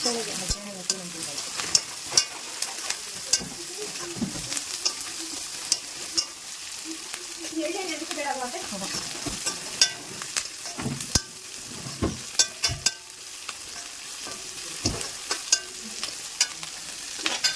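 Dry red chillies and onions frying and being stirred in a pan, a steady close sizzle broken by scraping stirs and sharp clinks of a spoon against the metal, with no voices.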